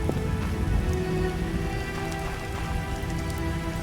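Steady rain pouring down in the video game The Witcher, a dense continuous patter on surfaces with a low rumbling ambience beneath, no speech.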